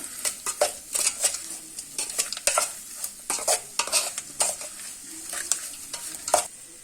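A spoon repeatedly scrapes and stirs egg sambar masala in a pan, producing close, irregular rhythmic clinks and scrapes over a soft sizzle, with no talk.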